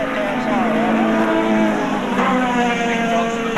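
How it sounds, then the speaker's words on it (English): Touring race cars from the 1984 Australian Touring Car Championship round at Surfers Paradise scream past, their loud engines whining and shifting pitch as they rise and fall through the gears. "Dick Johnson on his final lap for the last time round Qantas Hill."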